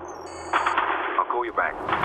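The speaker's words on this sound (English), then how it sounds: "sounded like gunfire" Bursts of gunfire in the video game James Bond 007: Quantum of Solace crackle in quick succession alongside a high electronic tone, with a voice talking over the shots.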